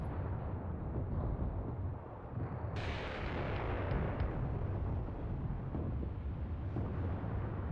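Heavy artillery rumbles in a World War II video game on the Mius Front, a dense, continuous low roar of distant shelling with one sharper blast partway through.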